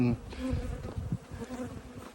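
Honey bees fly around commercial beehives, their buzzing close and fluctuating in short swells over a brief stretch.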